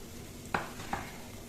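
Turmeric, cumin, coriander and chilli powders with salt fry together in hot oil in a pan. A quiet steady sizzle runs under two sharp clinks of a spoon against the pan.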